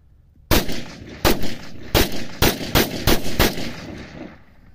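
A Turkish-made Stoeger Cougar 8000F pistol test fired: seven sharp, loud gunshots close by in an uneven sequence, each with a short ringing tail, and no talking.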